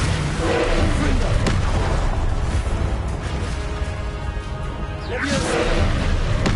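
Confringo fire spell blasts in the video game Hogwarts Legacy: repeated heavy booms with whooshing bursts over a dense, loud rumbling bed of game noise.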